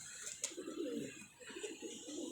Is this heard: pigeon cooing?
yes